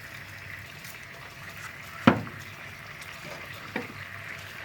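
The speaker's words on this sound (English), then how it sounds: "you're just gonna let this boil for a couple of minutes to let the ingredients mix together well and for the sauce to thicken" Buffalo sauce simmers in a pan for buffalo cauliflower wings with a low, steady bubbling hiss, broken by one sharp pop near the middle and a softer one after it, and no talking.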